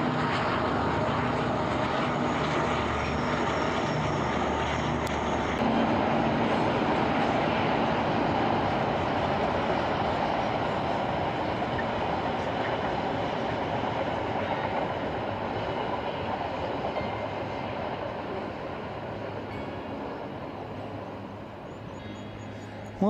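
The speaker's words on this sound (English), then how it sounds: "We've got a train coming over." A train rumbles overhead on a viaduct in a long, loud, sustained roar that slowly fades toward the end, heard from close beneath.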